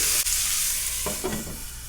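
Potatoes and pork belly (liempo) frying in a pan, stirred with a few scraping strokes over a steady close sizzle.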